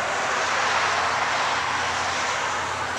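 Airplane engines roaring at an outdoor air show, a steady broadband drone holding at constant loudness throughout, fairly loud and unbroken by talk.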